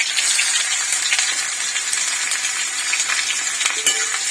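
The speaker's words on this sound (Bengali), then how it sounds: "পেঁয়াজটা একটু ভেজে নিচ্ছি।" Onions frying in hot smoking oil for egg shahi korma, a dense bright crackling sizzle that stays loud and continuous, with faint clinks of a utensil now and then.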